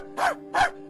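A young man imitates a dog, giving two sharp, loud barks at strangers in an online video chat, each bark short and separated by a brief pause.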